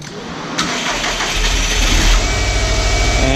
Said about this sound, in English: I've started the engine.